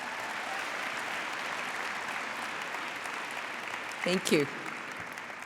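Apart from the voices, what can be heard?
applause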